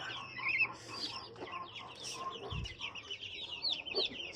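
Newly hatched chicks peep in high, rapid chirps alongside soft clucking from hens nearby, a busy, continuous chatter with an occasional low thump.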